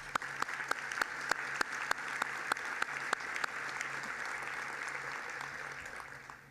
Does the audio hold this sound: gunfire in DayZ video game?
no